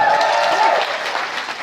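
Applause from a fan convention panel audience, a brief burst of crowd clapping that starts loud and tapers slightly, no talk over it.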